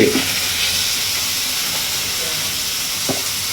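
Lentils (dal) tipped into onions already frying and turning reddish in a pan give a steady, close hissing sizzle that runs through the whole moment, with a couple of faint soft knocks.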